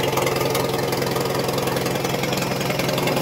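An International 424 tractor engine idles steadily during warm-up, a loud, close, even chug with a knocking pulse and no voices over it.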